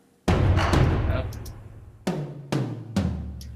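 Close, punchy drum-set hits from a sampled music library, several heavy booming strikes with decaying tails, the first sustained and the later ones spaced in a loose rhythm, with a brief spoken word among them.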